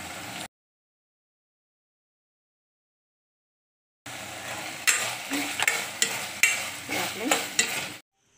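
Veg Manchurian balls frying in hot oil, a crackling sizzle with scraping stirs and clinks of a spoon, starting after a long silence and building in loud bursts, with a brief spoken word early on.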